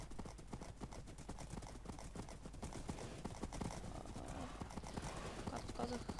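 Rhythmic clip-clop of horse hooves from the Minecraft video game, steady and fairly loud, mixed with a game soundtrack and a voice talking over it.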